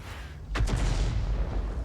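An FV207 self-propelled artillery gun fires a shell in a video game: one loud, deep boom at close range with a quick double crack, then a low rumbling tail that fades over about a second.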